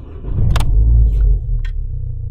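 A French car's engine starts using a card key: a quick starter whir cranks into a loud, close, low rumble that settles into a steady idle, with brief clicks over it.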